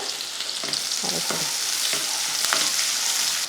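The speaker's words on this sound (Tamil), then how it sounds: "எண்ணெய் காஞ்சதுமே ஒரு பெரிய வெங்காயம் சேர்த்துடலாம்" Steady sizzling and crackling of onions and curry leaves frying in hot oil, with a few soft stirring scrapes, no talking.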